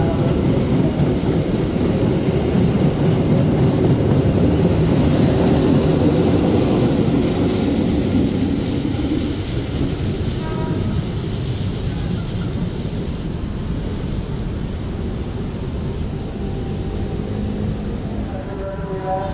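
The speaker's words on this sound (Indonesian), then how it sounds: "Kereta Argo Dwi Pangga tambahan." An Argo Dwipangga passenger train rumbles past close by for a long stretch, a broad roar of wheels on rails with occasional squeals, gradually easing off toward the end.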